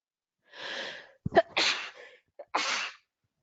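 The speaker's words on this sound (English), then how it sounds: "Best sneeze ever on screen." A single loud sneeze bursts out after a drawn breath, followed by a short gasp and a trailing exhale, close to the microphone.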